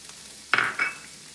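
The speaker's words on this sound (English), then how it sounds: "we're going to toss in some diced red peppers" Diced red peppers drop into melted butter in a pan on medium-high heat, giving a brief, sharp sizzling burst in two quick pulses, then fading to quiet.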